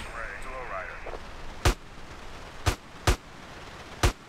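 Four separate explosive detonations in GTA San Andreas DYOM, spaced about a second apart, each a sharp loud boom over steady game background noise.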